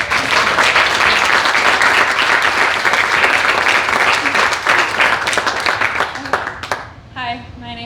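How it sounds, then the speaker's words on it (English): A wedding-style crowd gives sustained, dense applause and clapping for Abigail Biltman at a toasts and dedication event, loud and steady for about six seconds before thinning out as a voice begins to speak. "Ladies and gentlemen, please put your hands together"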